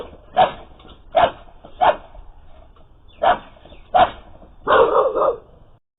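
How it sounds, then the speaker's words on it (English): Resident dogs bark fiercely at a black bear strolling through a yard, several loud sharp barks in irregular bursts with pauses between, ending in a quicker cluster of barking. "In the background, the resident dogs bark fiercely,"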